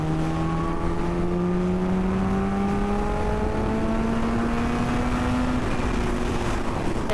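A Kawasaki Ninja H2 Carbon supercharged motorcycle engine revs up steadily, its tone climbing with a whine as it builds toward about 8000 rpm, loud and continuous with no talking.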